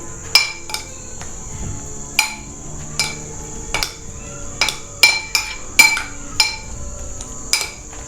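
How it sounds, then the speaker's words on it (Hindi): A metal spoon stirs bread pieces into salted beaten egg in a bowl, giving a run of sharp, close clinks at an uneven rhythm with a faint background hum and no talking. "इनको अच्छे से चम्मच के साथ मिक्स करेंगे।"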